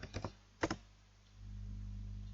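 A computer keyboard is tapped a few times in two quick bursts while filling in a form, close and quiet, followed by a low steady hum.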